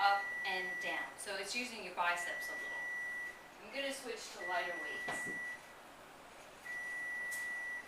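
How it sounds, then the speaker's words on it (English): An electronic alarm beeps in the background while food cooks in a home kitchen, giving several steady, sustained tones that recur between a woman's spoken remarks. "That's the alarm going off in the back"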